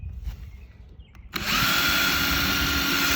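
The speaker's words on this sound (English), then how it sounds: "So I'm running it with the drill." An electric drill starts abruptly after a quiet stretch with faint handling noise, then runs at a loud, steady high-pitched whine until the end.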